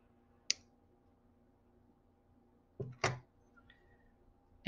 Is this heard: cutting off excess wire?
yes